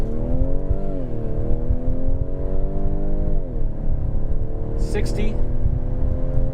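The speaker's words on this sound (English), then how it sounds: "let's stop here on our little bit of straight road and do an acceleration test in sport mode" A 2019 Ford Edge ST turbocharged SUV accelerating hard in sport mode on automatic, its engine note climbing steadily through a gear change with a loud, continuous drone inside the cabin while a person talks over it.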